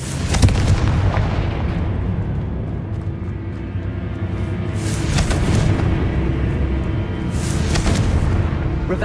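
Confringo fire spell blasts in the Hogwarts Legacy video game, several loud booming explosions with crackling bursts recurring over a dense rumbling game soundscape.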